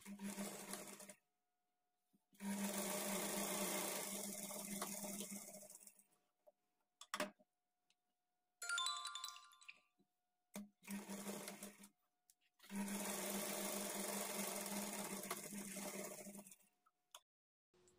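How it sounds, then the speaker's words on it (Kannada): A sewing machine stitches blouse darts in several close, whirring bursts of a few seconds each, separated by quiet pauses and small handling clicks. "4ನೇ ಡಾಟನ್ನು ಈಗ ನಾನು ಸ್ಟಿಚ್ ಮಾಡ್ಕೊಳ್ತೀನಿ"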